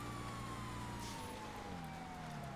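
A police cruiser's siren sounds in a racing video game, a steady tonal wail sliding gradually downward under a constant engine drone, with a brief crash-like burst partway through.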